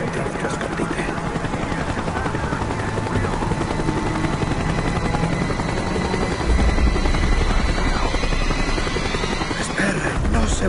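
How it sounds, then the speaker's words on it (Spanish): Helicopter circling overhead in the Call of Duty Black Ops video game, a steady loud rotor drone with dense chopping texture that swells louder in the final seconds, mixed with game ambience. "El helicóptero está dando la vuelta."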